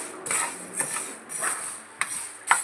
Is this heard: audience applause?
no